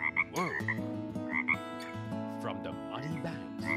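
A chorus of frogs croaking loudly from muddy stream banks in a jungle at night, overlapping deep resonant calls and higher chirping croaks layered densely and continuously.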